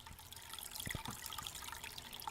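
Water runs steadily into a bucket while an 8-gallon nano aquarium is emptied for a water change, a soft, continuous trickle and splash heard fairly faint and alone.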